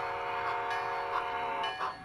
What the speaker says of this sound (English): From inside the roundhouse, an engine enters the turntable for maintenance.